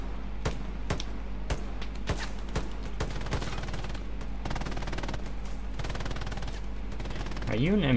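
Rapid automatic gunfire sprays in bursts of sharp repeated cracks through a video game match, loud and close, with a steady low hum beneath and a rising warbling tone near the end.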